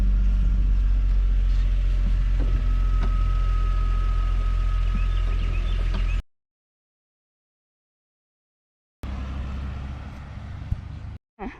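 An Infiniti I35 with freshly changed transmission fluid out on a test drive, giving a steady, loud low road and engine rumble from inside the cabin that cuts out to silence for a few seconds before resuming.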